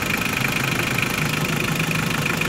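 A 2001 Hyundai Porter truck engine idles close by in a quiet spot, with a steady, even mechanical chug and a slight knocking rhythm.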